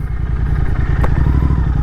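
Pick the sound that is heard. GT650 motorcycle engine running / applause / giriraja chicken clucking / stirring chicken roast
GT650 motorcycle engine running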